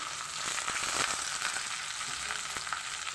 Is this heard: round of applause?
no